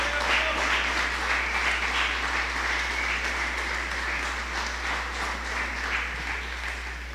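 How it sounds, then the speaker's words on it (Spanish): A church congregation applauds during a Spanish-language sermon, a steady wash of many hands clapping that stays fairly even in level for the whole stretch, with no voices standing out above it. "¿Puede darle un fuerte aplauso a nuestro Dios?"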